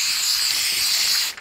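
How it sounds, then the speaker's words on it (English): Brake cleaner sprays onto a bicycle chain in one steady, close, loud hiss that holds for over a second and then cuts off abruptly. "you're just going to spray this chain"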